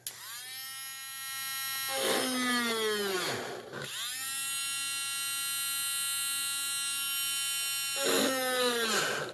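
A handheld rotary tool cutting a slot after holes have been drilled, a steady high-pitched whine with strong harmonics that sweeps down briefly as the motor slows and rises again, loud and close with no talk.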